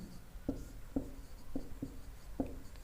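Pen strokes writing a definition by hand on paper, five short scratchy marks in an irregular rhythm, close and fairly quiet over a faint room hiss.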